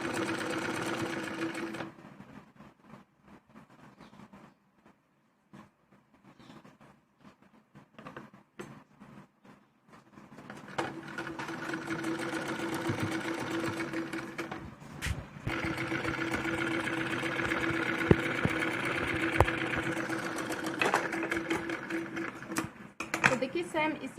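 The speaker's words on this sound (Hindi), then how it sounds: "बाकी पूरे पर ये सिलाई लगानी है" Sewing machine stitching piping onto a jacket armhole, with a steady whirring motor run near the start, a quiet pause with faint clicks, then a longer stitching burst while someone talks over it.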